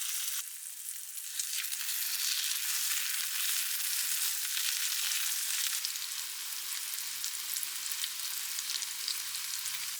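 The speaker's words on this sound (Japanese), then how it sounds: "それではパンを焼いていきます。" Bread frying in melted butter in a pan, a steady, bright sizzle that runs throughout, with a faint low clatter entering partway as the pan is moved, no voices.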